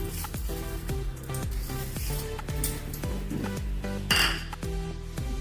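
A spoon stirs sugar in a large bowl for biscuit dough, giving repeated clinks and scrapes against the bowl, with music playing underneath.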